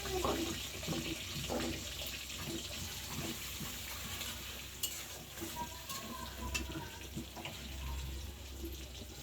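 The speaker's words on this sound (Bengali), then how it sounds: "পেঁয়াজটা আমি কিছুক্ষণ ভেজে নিব।" Onion frying in hot oil with bay leaves in a pan for a fish-head muri ghonto, a low continuous sizzle with occasional stirring scrapes, fairly quiet and close.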